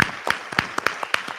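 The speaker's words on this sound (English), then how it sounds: "Can we give all of these candidates a round of applause tonight?" Scattered audience applause for mayoral candidates at a forum, a sparse run of separate hand claps at moderate volume.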